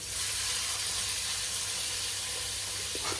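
Cumin seeds crackle in hot oil for a home-style Punjabi tadka, a steady, loud, close sizzling hiss that carries evenly throughout with no voices.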